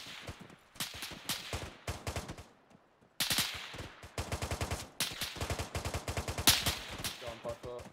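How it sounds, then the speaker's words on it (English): AK rifle fire in ArmA 3: several rapid automatic bursts rattle out in quick clusters, separated by short pauses, fairly distant and moderately loud. "Then there's an AK fire to the west over the hill."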